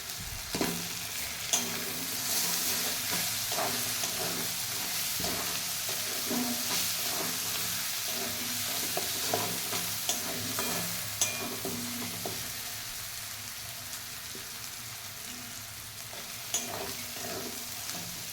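Four whole onions sizzle and fry steadily in a pan of spiced oil for dhaba-style chicken curry, a continuous close hiss broken by occasional stirring clinks and scrapes, with no talk.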